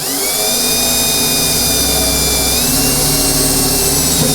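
A power drill bores a pilot hole into the cab of a classic Chevy or GMC truck, giving a loud, continuous high whine with a grinding undertone, the pitch dipping slightly partway through as the bit bites.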